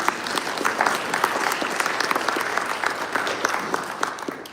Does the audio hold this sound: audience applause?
yes